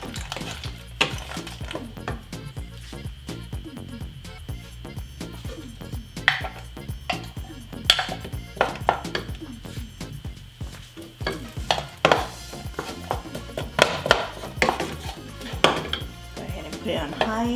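Corn sautéing in a pan over high heat for a black bean quesadilla, with a steady soft sizzle under intermittent stirring scrapes and clinks of a utensil against the pan, all close by.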